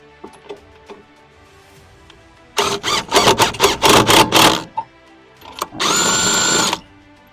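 A power drill drives the loose-washer lug nuts onto an off-road trailer wheel, giving a run of loud, rapid impact bursts followed by one steady whirring pull after a quiet pause.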